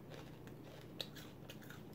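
Biting and chewing a hard, crunchy, hollow Korean snack: quiet close-up crunches, with one sharp bite snapping at the midpoint and softer crackly chewing continuing around it, no talk.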